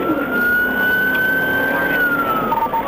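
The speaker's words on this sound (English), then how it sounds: "The moment lights and sirens came on, the driver, Matthew Martin Richardson, hit the gas" A police siren wails steadily and loudly over rumbling traffic noise during a high-speed chase, its pitch holding high and dipping slightly toward the end.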